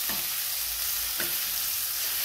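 Cut green chilies are sautéed in a pan, a close, even frying sizzle with two short spatula scrapes partway through, alone and without voices.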